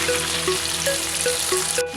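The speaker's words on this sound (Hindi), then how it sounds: "यहाँ गोश्त अच्छे से भून गया है" Beef (gosht) fries in a pan for a Pakistani shaljam gosht dish, a loud continuous sizzle with small popping crackles throughout.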